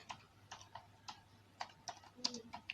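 Light, irregular keystrokes on a computer keyboard, soft clicks in short bursts, quiet and close.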